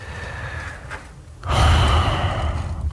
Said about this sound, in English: Listen to your breathing.